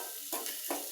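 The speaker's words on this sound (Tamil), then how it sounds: "எண்ணெய் ஊற்றி கடுகு போட்டு கொஞ்சம் சீரகம் போட்டு கருவேப்பிலை போட்டு வெங்காயம் போட்டு வதக்கிட்டுருக்கிறேன்." Onions sizzling and sautéing in hot oil with mustard seeds, cumin and curry leaves, a steady crackle with two brief louder bursts as the pan is stirred.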